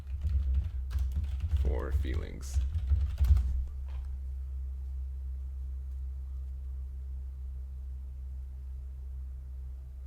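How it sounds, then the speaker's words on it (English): Keyboard typing on a computer during a Digimon card game tournament stream, a quick clatter of keys mixed with talk for the first few seconds, then fading into a steady low rumble. "I'm typing into Google forever"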